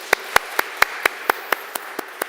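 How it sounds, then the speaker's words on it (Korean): Clapping in a church congregation during a Wednesday prayer service, heard as about ten evenly spaced, crisp claps in a steady rhythm against a quiet room. "예배를 받으신 우리 찬양을 받으신 하나님께 영광의 박수 돌리겠습니다"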